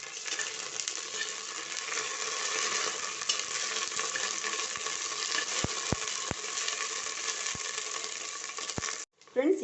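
Ginger garlic paste sizzling steadily in a hot pan while being stirred, a continuous close frying hiss with a few sharp metallic clicks of a spoon against the pan near the end.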